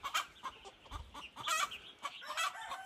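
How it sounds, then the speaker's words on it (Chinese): A hen on a mountain farm, having just laid an egg, gives repeated loud clucks and squawks in uneven bursts, close by, with faint fowl calls around and no talk. "这里又有一只母鸡刚产完蛋。"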